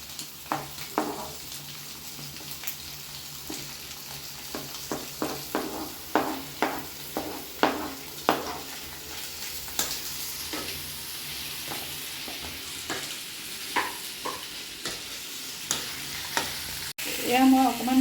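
Cucumber, tomato, green chilli and potatoes sizzle in a frying pan while a utensil stirs and scrapes in repeated strokes over a steady, moderate hiss, with no voices.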